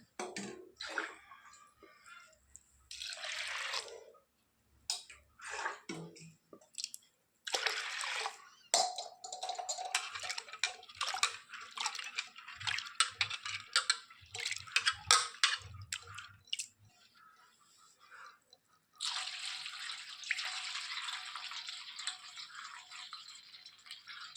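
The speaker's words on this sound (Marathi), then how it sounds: "आणखी एक एकदा स्वच्छ पाण्याने तिला धुवून घेऊया" Overnight-soaked lentils are washed with clean water, giving splashing, swishing and dripping in bursts with handling rattles and squishes between, close and moderately quiet, ending in a longer steady pour.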